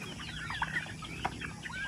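Farm chickens cluck in short, scattered calls over a low background murmur, a few birds close by across a couple of seconds.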